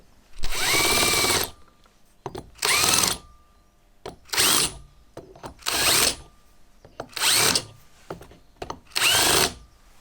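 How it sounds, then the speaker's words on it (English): A power drill countersinks holes in a lathe chuck backplate adapter for a Sieg SC4 lathe, cutting in six bursts of about a second each, separated by short quiet gaps with faint mechanical clicks between. "Now I just need to countersink these holes a little bit"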